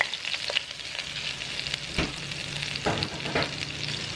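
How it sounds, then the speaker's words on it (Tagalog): Garlic, ginger and spices sautéing in two to three tablespoons of hot oil for a Filipino gisadong pinakbet, a steady bright sizzle with occasional spatula scrapes and taps, close and without speech. "Tama lang na magisa yung spices"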